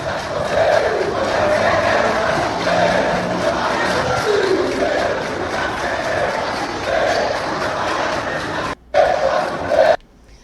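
Bahia football supporters of the Bamor group chant together at a street protest before a match, a loud, continuous crowd roar with rhythmic surges, cutting off briefly near the end.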